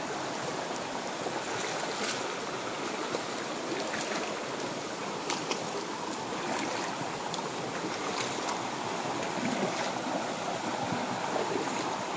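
A steady, continuous rush of flowing stream water, broadband and even from start to finish, close by with no voices.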